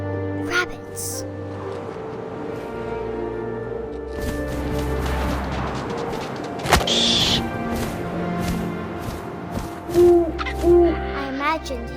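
An owl hoots in the video game What Remains of Edith Finch, a few soft calls over wind-like ambience and game sound effects, with narration spoken throughout.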